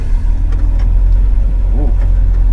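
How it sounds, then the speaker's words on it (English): A 1979 Austin Morris Mini with over 160 bhp drives slowly around an industrial estate, its engine running steadily and loudly up close, with a short voice cutting in briefly. "Just gonna take it for a slow drive around our industrial estate first"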